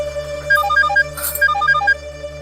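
A mobile phone ringtone plays a repeating melodic pattern of short electronic tones, two phrases in quick succession over a steady low hum, with no talking.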